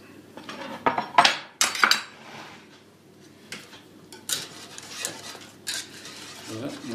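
A utensil stirs béchamel sauce with ham and mushrooms in a pan, giving sharp clinks and scrapes against the metal in irregular bursts, with softer wet stirring sounds between them.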